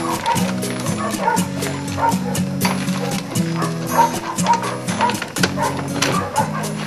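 Several dogs bark and yip at a kennel, sharp repeated barks over a busy background with some whimpering and metallic clanks, people talking faintly throughout.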